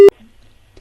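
A telephone busy tone after a phone is hung up, one short loud steady beep at the start, followed by near silence with a faint click.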